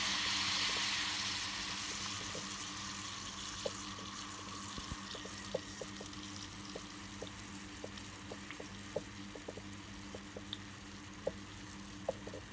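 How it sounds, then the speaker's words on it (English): Faint, continuous sizzling and bubbling of water heated by a self-heating pack in a noodle bowl, with scattered small pops and ticks throughout and no one talking. "So that thing is immediately boiling the water."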